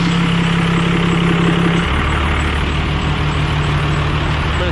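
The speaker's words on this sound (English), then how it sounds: "All right, she is sitting up there, idling away, getting warmed up." Hotshot truck engine idling up close, a loud steady low rumble with a deeper tone that shifts partway through, continuous and without talk.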